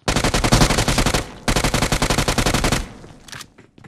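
Rapid automatic gunfire in the battle royale game BGMI, two long close bursts of rattling shots with a brief gap between them, then fading shots and softer game sounds.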